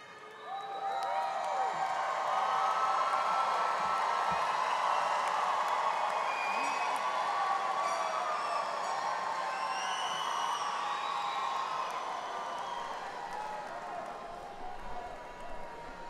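Graduates applaud, cheer and whoop throughout a Fall 2017 Texas A&M University-San Antonio commencement ceremony, a sustained, loud crowd roar with scattered high whistles and shouts for about sixteen seconds.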